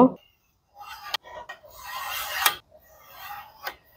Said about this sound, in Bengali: এখন রেড কালারটা কেটে নেব।